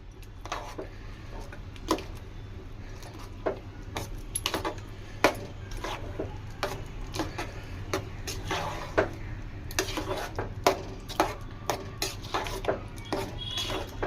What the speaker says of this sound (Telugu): వేసుకొని బాగా ఒకసారి బాగా మిక్స్ చేసుకుందాం ఫ్రెండ్స్